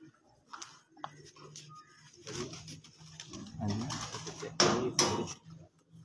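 A pigeon gives a few soft, low coos close by, with clicks, knocks and brief handling noises around it and some faint talk in the background.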